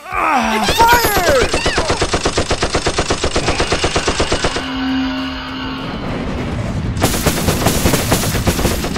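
Firing-squad gunfire in a Pokémon Pikachu Christmas stop-motion prison-break scene: a loud, rapid volley of evenly spaced shots, like a machine gun, runs for several seconds and then shifts into a noisier burst near the end.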